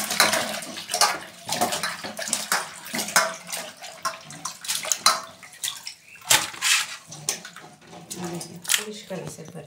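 Fish being washed under running water from a kitchen tap, with irregular splashing and gushing bursts as the fish is rinsed, while a person talks over it.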